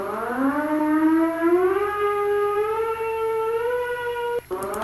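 A Russian emergency alert siren wails on one long rising tone that climbs slowly and holds steady for several seconds, loud and alone, then cuts off briefly near the end.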